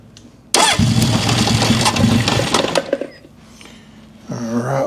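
A 1972 Honda CB750 Four motorcycle engine, its head recently replaced, fires up on choke with a sudden loud burst and runs roughly for a few seconds before dropping to a quieter idle, with a brief voice near the end.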